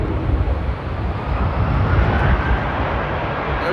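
An airliner departing Amsterdam Airport for Barcelona during a storm makes a dense, steady low roar of engine noise mixed with rushing wind, loud and continuous throughout, with no clear talk.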